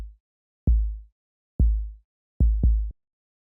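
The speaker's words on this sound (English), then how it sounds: "like I said, is the 808 kick, which sounds like this." Deep, booming 808 kick drum hits with a soft click and long low sustain, five in an uneven pattern including a quick pair, played alone.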